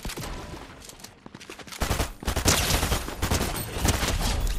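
Rapid gunfire in a Fortnite match, sustained bursts of close, crackling shots and impacts that intensify midway and keep rattling to the end with no talk.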